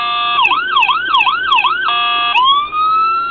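A 1/18 scale model Royal Newfoundland Constabulary Dodge Charger siren cycles through tones: a rapid up-and-down wail, then a steady high tone, then a rising sweep, loud and close with no talking.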